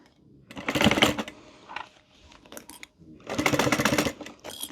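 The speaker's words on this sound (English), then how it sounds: "I'm just gonna stitch this together. I'm gonna do 1/4 of an inch." Sewing machine stitching a wristlet, two short bursts of close, clattering stitching separated by quieter handling noises.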